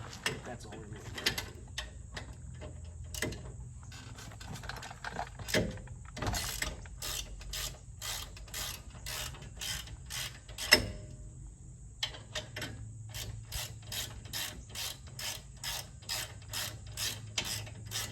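A hand ratchet loosens bolts on a Jeep Gladiator axle, giving rapid rhythmic clicking in repeated bursts, close and crisp, with brief pauses between strokes and faint talk in the background.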